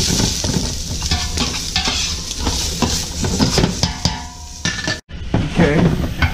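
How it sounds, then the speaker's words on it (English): Chopped onion tipped into hot oil and stirred with a utensil while cooking pork spareribs in black bean sauce, a loud close sizzle with repeated scraping and clatter against the pan, a brief pause near the end. "go ahead and throw in the chopped onion"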